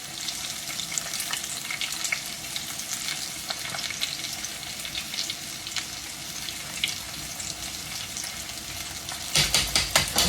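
Cabbage fries in a pan with a continuous crackling sizzle, joined near the end by closer scraping and stirring bursts.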